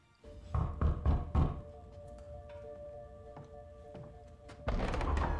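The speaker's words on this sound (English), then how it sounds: "There's someone at the door." Knocking on a door in the Marvel Midnight Suns video game: a few heavy thunks close together near the start, then a steady ambient hum with a louder swell at the end.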